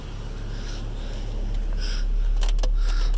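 A 2007 Chevy Colorado engine idles after its camshaft position sensors were replaced, giving a steady low rumble with a few brief sharp clicks toward the end.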